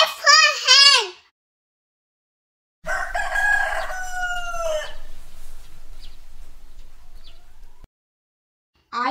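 A rooster crows loudly and close, with a brief call at the start, then a longer crow followed by a fading cluck-like tail and a final cut-off call. There is no talk.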